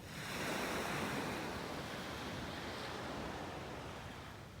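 Beach surf at North Naples, Florida, on a morning walk: a broad, steady wash of breaking waves with wind buffeting the microphone, swelling slightly early then holding even, with no voices.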